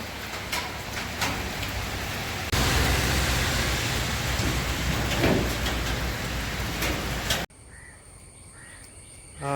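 Heavy rain pours down around a shed where a motorbike rider has taken shelter. It makes a steady, close hiss that grows louder partway through, with a crow cawing faintly. The downpour then cuts away to a quieter scene.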